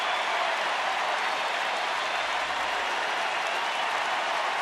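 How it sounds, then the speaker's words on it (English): Sellout baseball crowd at Rangers Ballpark in Arlington roars and claps in a continuous, loud wash of cheering that holds steady throughout. "And listen to this crowd."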